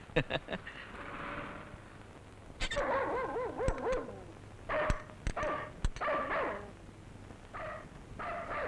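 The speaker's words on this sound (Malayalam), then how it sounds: "ഈ പട്ടി എന്താ ഇങ്ങനെ കിടന്ന് കുരയ്ക്കുന്നേ?" A dog barks in short sharp bursts with whiny yips, mixed with a voice talking over a steady background hum.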